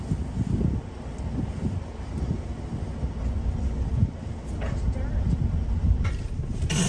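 Steady, heavy wind buffets the microphone outdoors, a constant low roar with gusts, while people talk faintly underneath.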